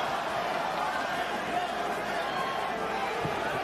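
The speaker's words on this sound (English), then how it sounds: "the crowd reacts to the chant of Loma again" Boxing arena crowd at the Devin Haney vs Vasyl Lomachenko fight, a steady roar of many voices rising into a chant for Loma, dense and continuous with no clear pauses.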